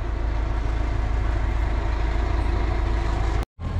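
A loader's heavy diesel engine idles with a deep, steady, close rumble that cuts out abruptly for a moment near the end.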